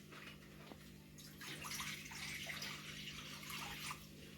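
Water, about one and a half glasses, is poured into a pot for Maggi noodles, a soft, steady trickle and splash lasting several seconds, faint and close with no talk.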